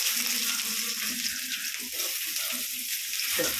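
Chopped onion, crushed on a stone, dropped into hot oil for a tangy mango and drumstick curry, giving a steady close sizzle with a faint low murmur underneath.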